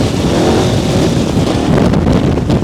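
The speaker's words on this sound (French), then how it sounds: "C'est quoi cette bécane de ouf? Regarde le couple que ça a" A KTM 1290 Adventure S motorcycle accelerates hard through second and third gear, a loud continuous engine roar with heavy wind noise recorded up close from the rider's position.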